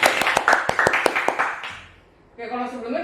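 An audience claps for a guest on a talk show, a quick burst of close, crisp claps lasting about a second and a half before fading, then a voice speaks.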